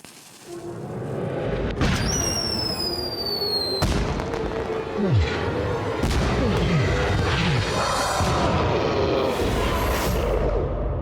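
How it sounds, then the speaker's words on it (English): Firework cannon in the Christmas Stories 2 video game firing repeated booms and crackling bursts with whooshing launches, continuous and fairly loud throughout. "I've never seen a firework cannon"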